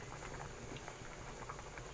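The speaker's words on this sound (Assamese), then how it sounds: "এয়া দেখিছে দালি উতলি আছে।" Dal lentils boil in a cooking pot, giving a steady, quiet bubbling and popping with small irregular bursts throughout and no talking.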